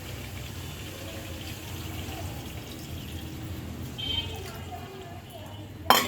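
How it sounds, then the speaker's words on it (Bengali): Water is poured into a pot of pigeon meat and potato curry, a soft running, splashing wash that swells near the end, with a voice talking faintly beneath. "এখন ঝোলের পানি দিয়ে দিব"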